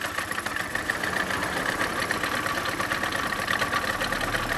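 A Suzuki Street Magic 50 two-stroke scooter engine idles after starting, with a steady, loud, buzzy rattle throughout and no talking.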